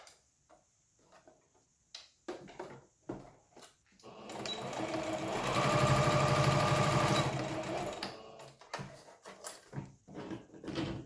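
A sewing machine stitches a fabric scrunchie closed, starting with a few short clicks, then building to a steady whirring run for about three seconds before slowing into scattered stops and taps.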